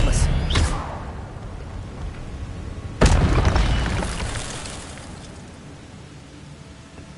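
Casting the Expelliarmus disarming spell in Hogwarts Legacy produces two loud magical booming bursts, one at the start and a heavier one a few seconds later, each trailing into a long fading rumble.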